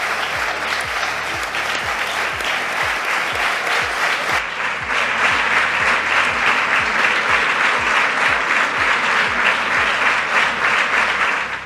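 Deputies in the Parliament of Catalonia applaud the Ukrainian consul Oleg Grabovetsky with dense, sustained clapping from a large chamber that grows slightly fuller partway through.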